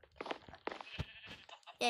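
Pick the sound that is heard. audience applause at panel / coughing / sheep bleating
sheep bleating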